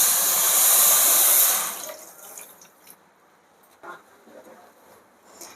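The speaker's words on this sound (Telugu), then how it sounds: "మనం షుగర్ ఎంత తీసుకున్నామో ఈ కప్పులో కూడా సేమ్ అన్ని వాటర్ తీసుకోవాలి." Water pours into a pot for sugar syrup, a loud rushing stream for about two seconds that stops abruptly, followed by faint drips and small clinks.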